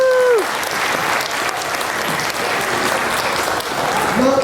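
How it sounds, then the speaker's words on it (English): An audience at a formal remarks event applauds to welcome the chief guest, a steady, dense stretch of clapping lasting several seconds, with a voice briefly at the start and end. "So please welcome me in giving a round of applause to our chief guest, Dr. Rajendra Gill."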